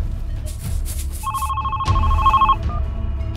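A mobile phone rings with a short electronic ringtone, one clear burst of about a second over low background noise.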